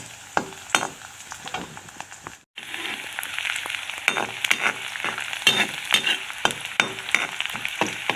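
Chopped green chilies and garlic fry in a pan with a steady sizzle, broken by repeated scraping stir strokes from a utensil; a brief gap, then louder sizzling continues close up.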